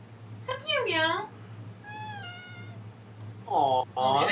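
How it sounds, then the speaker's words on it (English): A pet cat named Dazzle meows loudly and close several times indoors, with drawn-out, rising and falling calls separated by short pauses over a low steady hum. "Your mic picked up that meow like perfectly."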